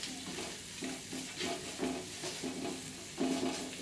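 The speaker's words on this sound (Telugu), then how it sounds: "అల్లం వెల్లుల్లి పేస్ట్ వాసన పోయేంత వరకు వేయించుకోవాలి" Ginger garlic paste frying in a pan for a drumstick egg tomato curry, a soft steady sizzle broken by rhythmic stirring scrapes, fairly quiet and close, with no talking.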